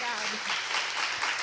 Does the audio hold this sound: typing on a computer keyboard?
no